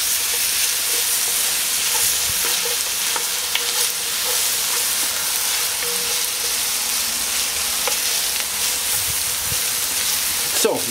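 Ingredients roasting in oil in the bottom of a Dutch oven for a pork roast, a steady close sizzle with faint stirring scrapes, continuous and alone with no talk.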